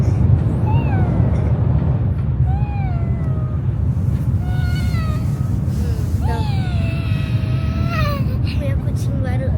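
A cat meows repeatedly, with rising and falling calls spaced a second or two apart, close and clear over a steady low rumble that suggests a moving bus in Kyoto.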